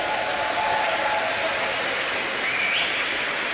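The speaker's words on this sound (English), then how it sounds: "cheers ringing out from the crowds there" A crowd cheers and applauds at a StarCraft II esports grand final at DreamHack Open Valencia 2012, a dense, loud, sustained wash of clapping and cheering filling a large hall.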